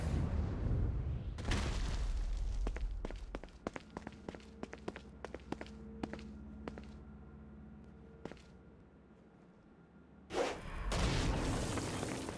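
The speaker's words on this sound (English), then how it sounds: "Stone blast is especially useful on flying demons like this one." In the Saints Row: Gat out of Hell video game, stone blast power rumbles in heavy bursts at the start and end, with sharp thuds and impacts in between, and no speech.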